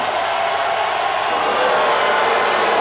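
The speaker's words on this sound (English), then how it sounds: "And the crowd does not like Chase's tone here." Crowd noise in the ECW arena in the Fire Pro Wrestling World game, a steady broad roar of an audience reacting with displeasure, sustained and fairly loud throughout.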